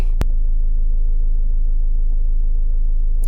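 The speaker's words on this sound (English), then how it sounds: "I have to just leave the engine to run for about, I think, 5 minutes just to get it warmed up" A 2011 Nissan Qashqai J10 engine idles steadily while warming up, a loud, even mid-pitched rumble that runs unbroken at close range after one sharp click near the start.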